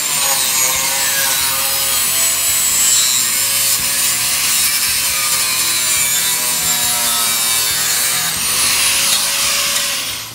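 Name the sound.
sawing through model railroad track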